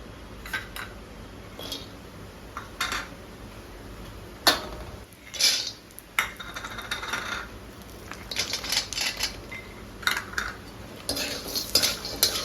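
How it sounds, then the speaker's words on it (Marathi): Dry fruits roast in a little ghee in a pan as a spoon stirs them, producing repeated metallic scrapes and clinks against the pan with light, intermittent rattling in between, fairly close and moderately quiet. "परत थोडंसं तूप घालून हे ड्रायफ्रूट भाजून घेते त्याच्यात"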